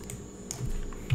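Typing on a computer keyboard while working in Excel, with a few quick close keystrokes over a soft low room hum, brief and quiet, no voices.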